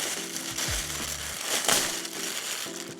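Plastic wrapping on a packaged duffel bag crinkles and crunches as it is pulled open, close and fairly quiet, with a sharper tearing crackle midway through.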